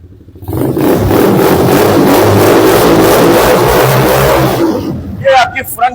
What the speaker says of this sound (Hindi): ये इस बाइक की एक्सीलरेशन है